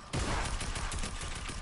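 Rapid burst of laser gunfire in a shooter video game, a dense, continuous volley of overlapping shots that starts abruptly and stays loud and close throughout.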